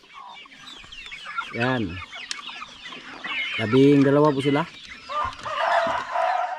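Native chickens cluck and squawk up close after being caught for a fiesta, with several loud, rising bursts of calls and softer clucking between them, while a person talks over them.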